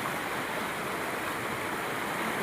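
Rajrappa waterfall sends a heavy flow of water down in a constant, dense roar, loud and unbroken throughout.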